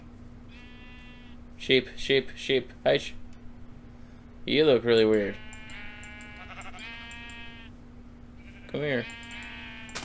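Blocky, synthetic sheep bleats from the video game Minecraft, a quick run of short calls followed by a longer, louder bleat and a later one, heard close and clear while a person talks over them.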